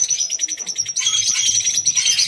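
Small caged birds in a pet shop chirp and tweet in rapid, overlapping bursts, loud and close, with soft cooing from pigeons or doves underneath.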